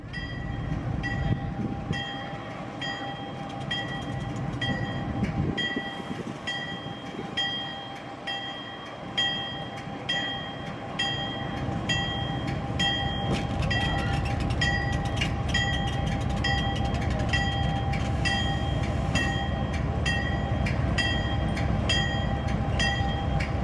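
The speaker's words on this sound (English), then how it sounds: "as the pin comes in to lock the turntable in position, the diesel slowly crawls off." A diesel locomotive crawls slowly off a turntable, its engine idling in a steady low drone under a constant high tonal whine, with faint rhythmic clanks and clicks that grow denser as it moves off, heard from a short distance.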